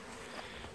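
Honey bees humming around a yard of 32 hive colonies stacked with supers, a soft steady buzz with no speech.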